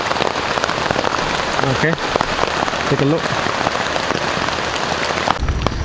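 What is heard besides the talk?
rain falling in the rainforest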